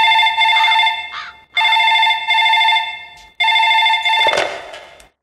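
A telephone rings after a call is placed, three loud, close electronic ring bursts separated by short pauses, with no talk over them.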